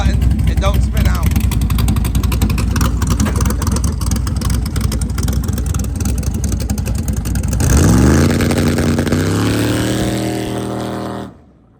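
A nitrous-powered drag car launching off the trans brake in second gear: a loud, rough engine held at high revs, then a rising roar as it pulls away, the sound steadily fading into the distance before cutting off.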